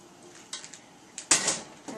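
A spoon stirs chicken noodle soup in a pot, giving a few light metallic clinks and scrapes, with one louder clatter near the end, close and alone.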